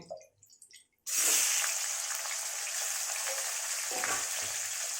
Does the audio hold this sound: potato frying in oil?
yes